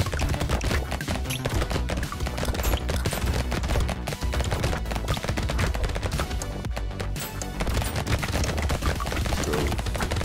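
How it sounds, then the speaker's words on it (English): Rapid, dense gunfire from the arena shooter Brotato, crackling like fireworks in a steady loud barrage across the whole stretch, mixed with busy game effects and no talk. "The guns sound like fireworks."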